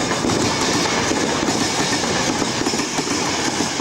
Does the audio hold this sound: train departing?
yes